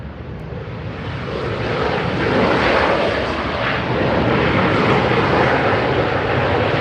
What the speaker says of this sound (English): That's Delta Airlines.